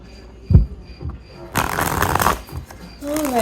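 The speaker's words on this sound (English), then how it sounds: "I feel the need to cut the deck." A deck of tarot cards is shuffled in a quick, loud riffling burst lasting about a second and a half, after a single tap as the deck is handled, with a voice speaking briefly around it.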